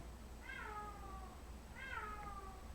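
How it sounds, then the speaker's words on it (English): A pet cat named Sponge gives two clear, drawn-out meows a second apart, moderately close in a quiet room, with no talking. "That's our cat."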